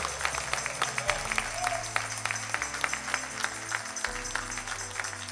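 A church congregation claps for the Lord during a service, rhythmic hand claps ringing out over sustained low keyboard and bass music that carries underneath the whole time.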